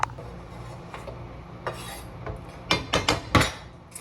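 Mushrooms being stirred in a pan, with a few soft scraping strokes early on, then a quick cluster of louder utensil scrapes and clinks near the end, close and without talk.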